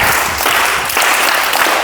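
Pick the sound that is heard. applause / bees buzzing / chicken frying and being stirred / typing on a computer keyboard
applause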